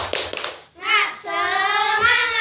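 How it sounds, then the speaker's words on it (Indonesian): A class of children in an Indonesian lesson on halal food does a quick rhythmic spirit clap, a short burst of close sharp claps, then a loud, sustained group chant of young voices. "Tepuk semangat."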